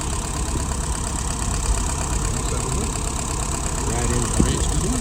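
A vehicle engine idling at about 600 RPM gives a steady, low, knocking rumble that stays even throughout, close and loud, with a voice faintly underneath.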